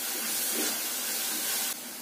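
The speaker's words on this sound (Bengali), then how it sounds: "মশলাটাকে আমি খুব ভালোভাবে কষিয়ে নিচ্ছি" Masala mixed with Maggi magic masala sizzles steadily in a pan, a continuous broadband hiss that holds loud and even before dropping slightly near the end.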